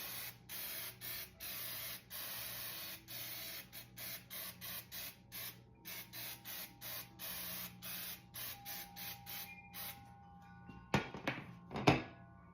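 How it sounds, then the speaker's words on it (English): Baker's Joy baking spray coating a Bundt pan in many short, rhythmic hissing bursts, close and steady, followed near the end by a few clunks and knocks. "So I am going to use my Magic Baker's Joy and coat this really well."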